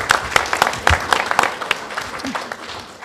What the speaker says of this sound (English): Can we just give a big round of applause for Paula and for Larry for the great job th